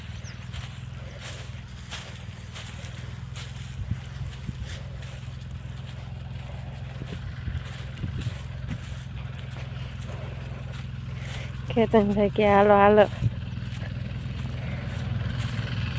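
A tractor pulling a groundnut harvester in a farm field gives off a steady, low engine drone throughout, with a brief loud call from a nearby voice near the end.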